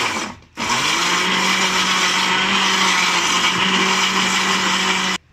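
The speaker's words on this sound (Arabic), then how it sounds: "وانا دلوقتي هقفل بقى الخلاط" An electric blender whirs steadily as it blends a banana yogurt drink with sugar, starting after a short pause and running loud and continuous to the end before cutting off.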